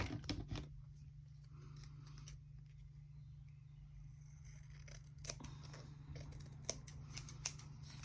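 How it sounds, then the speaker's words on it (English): Scissors snip through a paper pocket page for a handmade mini album, a burst of close cutting at the start followed by quieter scattered snips and paper handling against a low steady hum. "I'm gonna have to do some trimming on here."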